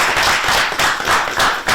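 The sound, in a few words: audience applause for contestants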